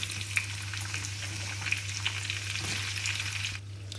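Onion goes into garlic frying in hot oil, and a constant close sizzle crackles with small pops over a low steady hum, then cuts off abruptly near the end.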